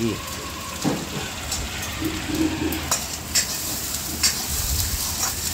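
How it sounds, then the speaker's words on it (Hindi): Loud steady sizzling of an egg tadka frying in a kadhai with scraping stirs and occasional metallic clinks of a utensil against the pan, close up, in a hotel kitchen. "तड़का तैयारी चली।"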